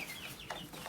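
A backyard chicken clucks in a brief, close, continuous burst of rising and falling calls.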